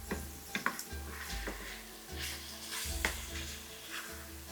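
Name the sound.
pork meat frying in a pan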